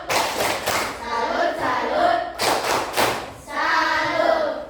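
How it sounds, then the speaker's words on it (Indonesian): A class claps out a rhythmic "tepuk salut" cheer for a student group: two bursts of close, loud unison clapping broken by a short pause, with voices chanting along. "kita beri tepuk salut untuk kelompok 4"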